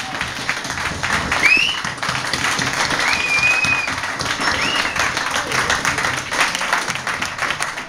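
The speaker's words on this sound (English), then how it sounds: "big round of applause for Tom Crawford" An audience gives a big round of applause for speaker Tom Crawford at a public talk, a full crowd clapping continuously for several seconds with a couple of whistles cutting through near the start.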